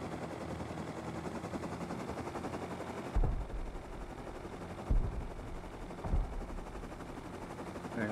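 Faint video game gunshots: three separate thuds spaced a second or two apart over a steady background hum, with no talking.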